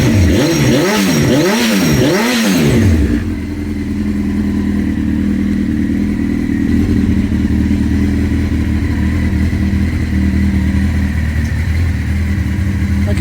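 A Honda CBR900RR Fireblade motorcycle, restored after 18 years of neglect, fires up on a hot day in Melbourne. It revs loudly and up close three times in quick pulses, then settles into a steady, rumbling idle.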